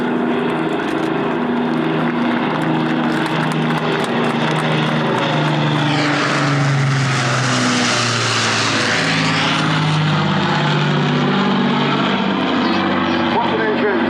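The Avro Lancaster PA474's iconic engines roar on approach at Cosford Airshow 2023, a loud, continuous multi-engine propeller drone with throbbing harmonics that swells as the bomber passes close, joined by a brief higher whooshing sweep midway.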